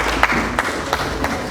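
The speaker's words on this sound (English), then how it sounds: "I want you to clap for them" Sparse clapping at an African awards ceremony, a few separate, fairly loud claps spaced apart over a low room murmur rather than full, sustained applause.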